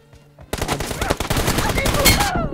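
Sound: gunfire in a mobile shooter video game

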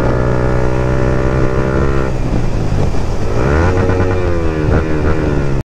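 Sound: Yamaha MT-15 V2 motorcycle with loud aftermarket exhaust

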